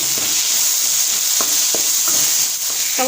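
Tomatoes frying with onions and spice paste in a pan for a pakora curry give a steady close sizzle, broken by a few short scraping stirs, with no voices.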